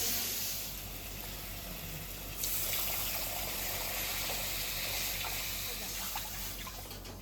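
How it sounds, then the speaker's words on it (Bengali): Water poured into a pan of sautéed spice mix for a Bengali fish curry, a steady close gushing pour that rises in intensity partway through and runs on with bubbling. "মশলাটা কষানো হয়ে গেছে এবার জল দিয়ে দেবো"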